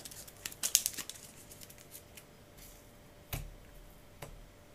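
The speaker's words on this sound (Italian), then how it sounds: "Mescola le carte pattuglia." Patrol cards from the board game Maquis are shuffled by hand, giving a quick burst of crisp card flicks followed by a few isolated taps and slides on the table.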